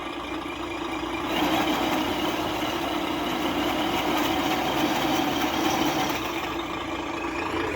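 A radio-controlled truck's sound module plays a Scania truck engine, a continuous, fairly loud diesel-style rumble that swells slightly and then stays steady, with no voices.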